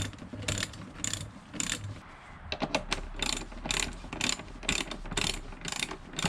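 A hand ratchet clicks in quick repeated strokes while fittings are loosened at a vehicle's air box, crisp close metallic ratcheting in short rhythmic bursts with small pauses between.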